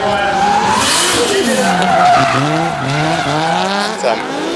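Tyres on a Nissan C35 Laurel drift car running Nexon tyres squeal loudly and continuously as it slides sideways at a D1NZ drifting championship round in Whangarei. A revving engine rises and falls underneath.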